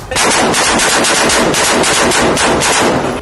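Sustained automatic gunfire from Israeli soldiers' rifles during a raid on a Hamas stronghold in Khan Younis, South Gaza: a loud, dense rattle of rapid bursts filling the whole stretch, with no voices.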